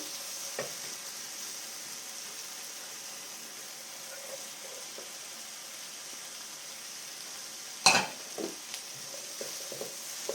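Tomatoes sautéing in a pan for soya curry, a quiet steady sizzle with one sharp clatter of a utensil or lid partway through and a few faint taps after; fairly soft, with no talk.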